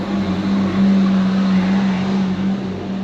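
A truck passes by outside as a loud, steady engine rumble with a strong low hum that swells slightly and then eases, with no one talking.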